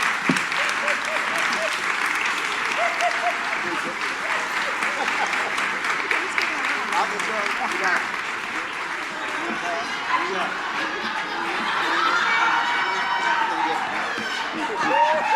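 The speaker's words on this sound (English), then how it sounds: "Round of applause, please." A TV town hall audience applauds for a Democratic presidential candidate, a sustained loud wash of clapping with crowd noise that swells toward the end, a voice faintly present underneath.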